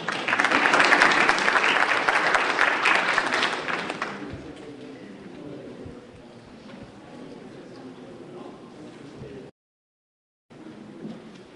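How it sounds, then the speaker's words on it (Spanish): Audience applause welcoming a doctor to a talk on herd fertility, a loud burst of clapping that fades after about four seconds into quieter room noise with speech. "Demos un fuerte aplauso"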